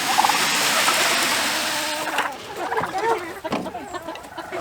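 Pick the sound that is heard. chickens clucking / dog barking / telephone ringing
chickens clucking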